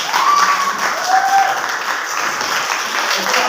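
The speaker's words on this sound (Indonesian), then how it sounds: "ya, tepuk tangan dulu" Classroom applause from a class of tenth-grade students, a steady wash of clapping at moderate loudness, with faint voices mixed in near the start.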